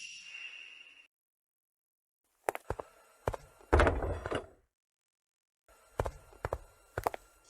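A door shuts in an indoor room with a few sharp thuds and knocks, followed by a louder closing clunk and more scattered bumps, close and fairly loud against quiet gaps.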